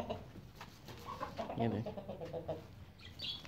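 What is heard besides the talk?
golden misri hens clucking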